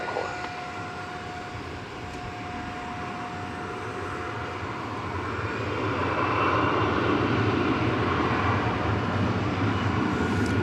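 American Airlines jet landing on runway 18 left at DFW airport in the evening, a steady engine roar that swells louder in the second half as the aircraft passes near.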